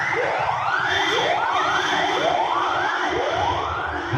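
An ambulance siren wails in repeated rising sweeps, steady and continuous, heard alone at moderate distance.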